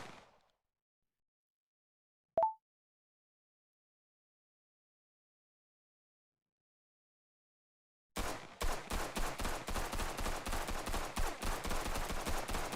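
Rapid bursts of gunfire from weapons in the VRChat game, a dense run of sharp shots after long silence, preceded by one isolated snap.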